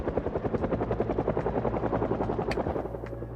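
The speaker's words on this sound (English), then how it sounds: "So I just enabled chopper." A helicopter in the video game Project Zomboid thuds overhead with loud, rapid, even rotor chops, close and continuous, then fades slightly near the end.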